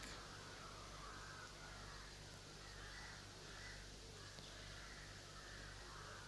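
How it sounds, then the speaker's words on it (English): Crows caw repeatedly in a ragged rhythm over a steady wash of background noise, the calls carrying from some distance. "that the crows should stop their noise"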